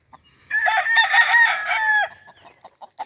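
A brassy back rooster crows once, loud and close, a drawn-out call of about one and a half seconds followed by a few faint clucks.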